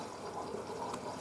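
A Blomberg WNF9448 washing machine fills with water during its conditioning rinse, making a faint, continuous rushing trickle of water entering the drum, steady and muffled.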